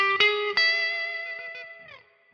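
Electric guitar playing a short blues lick at the end of measure 9 of a twelve-bar blues, a few picked notes ringing clearly and decaying with a bending slide, alone with light effects.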